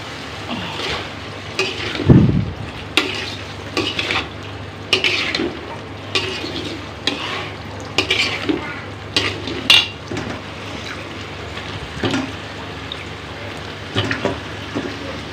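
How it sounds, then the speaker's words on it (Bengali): Eggplant and potato are sautéed in a pan on a gas stove, with a soft steady sizzle under repeated close scraping and clinking of a utensil against the pan. "আমার বেগুন আলু এদিকে কষানো হচ্ছে"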